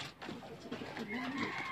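A pigeon coos softly and low, a short throaty warble heard at close range against quiet background noise.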